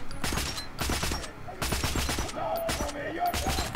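Bursts of scoped rifle gunfire in Metro: Last Light, several close, sharp shots in quick irregular clusters with ringing tails between them.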